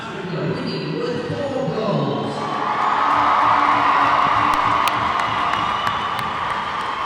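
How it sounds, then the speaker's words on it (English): Crowd at an ice hockey world championship game cheering after a Team South Africa win, a sustained swelling roar of cheers and whoops in an arena, with a commentator talking over it. "Big cheer from the crowd for the boys."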